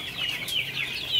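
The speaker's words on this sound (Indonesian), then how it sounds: "Ini ayam-ayam saya" Javanese KUB laying hens clucking and squawking up close on a small poultry farm, a series of quick rising and falling calls over a faint low hum, with no talking.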